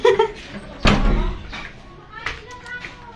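A door is slammed shut at a home, one sharp loud thud cutting through a child's chatter, followed by quieter household knocks and voices.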